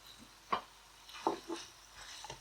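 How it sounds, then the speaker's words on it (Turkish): Eggplant and minced meat stew being stirred gently in a pot, a few soft scraping and clinking strokes with a faint sizzle beneath, close and quiet with no talk. "Şöyle hemen hafiften karıştırıyorum."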